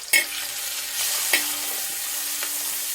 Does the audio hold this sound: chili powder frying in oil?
yes